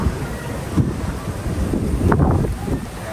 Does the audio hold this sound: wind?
yes